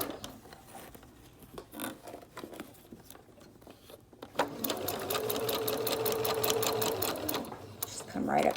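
A Singer sewing machine stitching fabric for a 3-D face mask: after soft handling noises, the motor runs in a steady, fast rattling burst for several seconds, close and moderately loud.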